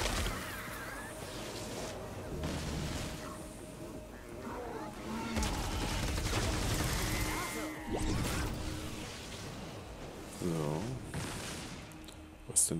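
Gunfire in Fortnite: scattered shots and bursts cracking amid in-game crashes and effects, moderately loud, with someone talking over parts of it.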